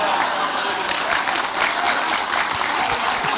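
An audience at an Islamic religious gathering bursts into sustained, dense applause, the many hands clapping loud and continuous throughout.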